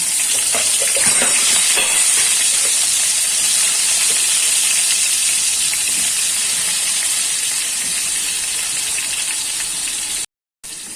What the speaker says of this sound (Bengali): তেলটা আমার গরম হয়ে গেছে, এবার আমি বেগুনটা ভেজে নেব।